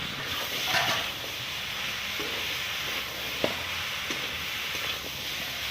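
Jackfruit seeds, taro, yardlong beans and potatoes stir-fried together in a pan for a loitta fish chorchori, giving a steady low sizzle with occasional spatula scrapes and clicks.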